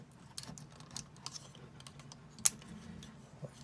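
Plastic panels on a Fans Toys Outrider Transformers figure click and tick faintly as they are folded in, a scatter of small sharp snaps close by, with one brighter click near the middle.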